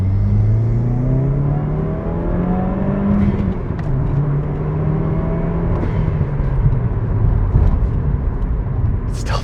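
A 2015 Subaru WRX pulls hard under full throttle, its engine note rising steadily through the gears with brief dips at shifts, loud and continuous with wind and road roar throughout.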